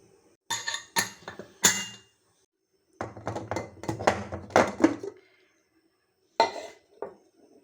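A pot lid clatters and clanks onto a metal pressure cooker of mutton curry in a few close, sharp bursts, with short pauses between them and no voices.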